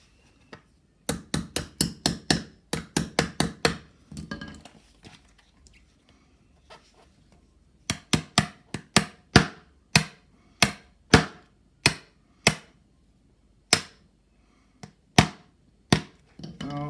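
Sharp metallic hammer taps drive a ball bearing onto the worn, chewed-up axle of a Joolz Day stroller rear wheel, two quick clusters of rapid strikes followed by slower, evenly spaced blows, close and crisp with no talking.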